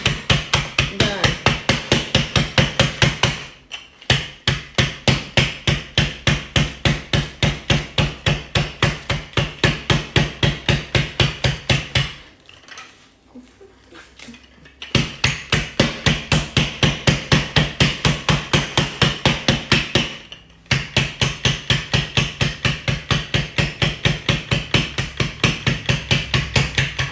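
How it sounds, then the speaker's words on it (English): Steady rapid pounding on puff pastry dough for custard tarts, loud regular thuds repeating throughout, with two brief pauses before the hammering resumes at the same pace; no talking. "So you want to pound it out to about"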